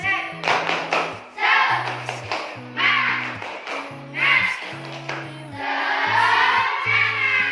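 A class of Indonesian schoolchildren performs a tepuk semangat cheer, clapping in a quick patterned rhythm in bursts and chanting along, with a steady tone playing underneath throughout.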